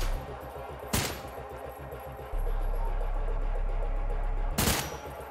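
Gunfire rings out in the Trepang 2 shooter game, two sharp loud shots a few seconds apart over a low droning background hum.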